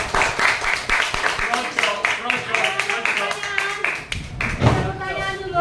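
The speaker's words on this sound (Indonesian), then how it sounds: "tepuk tangan dulu buat si Charles." Students in a classroom clap their hands together in a quick, scattered burst of sharp, uneven claps, with voices chattering over the clapping throughout.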